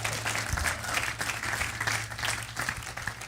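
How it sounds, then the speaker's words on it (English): A church crowd applauding steadily, dense clapping that fills the whole stretch at a fairly loud, even level, with no voices over it. "Give them a big round of applause."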